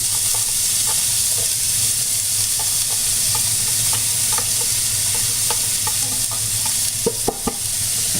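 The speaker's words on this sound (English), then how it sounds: "I'm going to put peppers and the onions in there first while I'm slicing up the meat." Sliced peppers and onions sautéing in melted butter in a pan, a loud steady sizzle and hiss with scattered light clicks of a utensil, close up, no talking.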